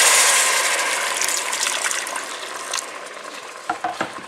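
Chicken stock poured into a bubbling soup base in a pan, a steady broad hiss and sizzle that slowly fades, with a few sharp clinks and stirring knocks near the end.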